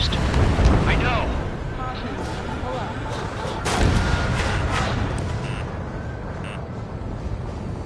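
Anti-aircraft fire from enemy guns in a combat flight video game, a dense roar of rapid booming shots and blasts that stays loud and continuous throughout, with a sharper burst of fire partway through and voices mixed in.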